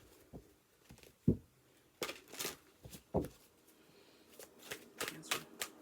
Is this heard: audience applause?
no